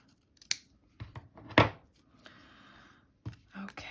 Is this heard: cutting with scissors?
yes